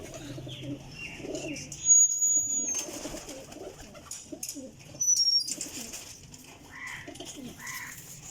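Pigeons, including a green flying breed, cooing in soft repeated calls with scattered chirps and a few sharper tweets, close by and without talk.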